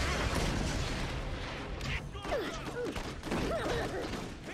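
Gunfire from a boss's gun in the video game Borderlands, loud shots and bursts densely layered over a busy battle mix, with whooshing effects sweeping through.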